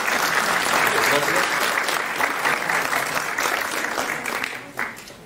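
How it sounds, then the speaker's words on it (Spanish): Audience applause for a guest lecturer after a talk on tourism in Choquequirao, steady dense clapping throughout, fairly close and loud, tapering slightly near the end. "Está de más pedirles un voto de aplauso para ella, ¿verdad?"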